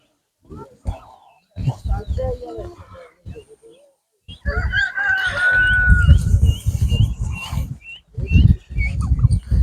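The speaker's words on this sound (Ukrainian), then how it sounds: "Так, є індики." Poultry at a village animal fair in Ukraine call out in loud, close squawks and clucks, with a drawn-out crowing-like cry in the middle, interspersed with people talking nearby.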